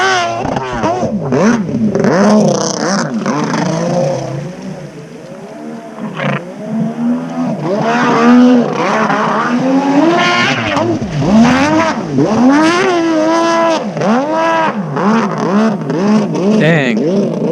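Kawasaki 650SX jet ski fitted with an 1100 triple engine revs loud and close, its roaring tone rising and falling repeatedly through the whole stretch, with voices heard faintly in between.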